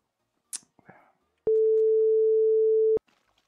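A steady electronic telephone tone sounds while a call is placed to friends, a single clean held beep lasting about a second and a half after faint rustling and a short vocal sound.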